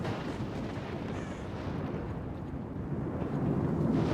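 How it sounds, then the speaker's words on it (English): A psychic and radiation emission blast in STALKER: Call of Pripyat, a steady deep rumbling roar that swells slightly louder toward the end, with no speech. "causing this psychic and radiation explosion that will kill everything that's not in cover"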